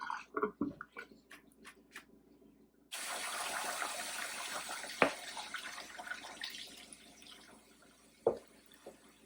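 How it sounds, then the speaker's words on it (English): Running water gushes steadily from a sink as the stopper is lifted slightly, after a few clicks and light knocks, with a couple of sharp taps partway through the flow. "I'm going to take some of my hot water out by taking my stopper out just a little bit"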